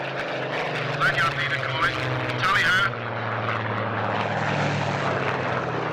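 A propeller fighter aircraft engine drones loudly and continuously, shifting pitch as it moves, while a voice speaks over it early on.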